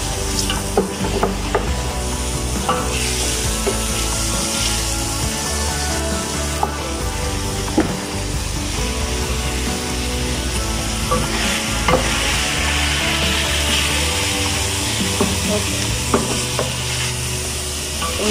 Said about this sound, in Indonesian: Kasih daging yang udah kita cuci, diaduk-aduk.